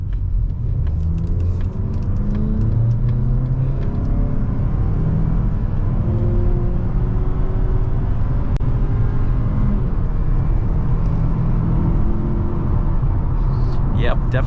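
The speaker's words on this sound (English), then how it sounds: "So I definitely could feel like this engine is struggling" A 2023 Mazda CX-50 with the non-turbo engine labors under load while driving, a steady low engine drone with rising and falling harmonic tones under road rumble, continuous and fairly loud from inside the cabin.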